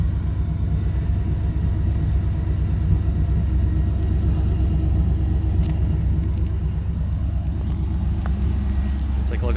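Steady, loud, deep rumble from a 1986 Camaro IROC-Z engine running with a Flowmaster 80 Series cat-back exhaust, idling close by without a break.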